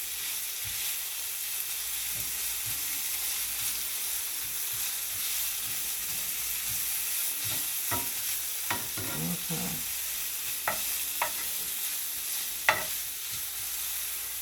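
Green onions stirred in a hot pan while cooking bok choy, a soft steady hiss of frying with a few scattered scrapes and taps of a utensil, fairly quiet and close, no talking.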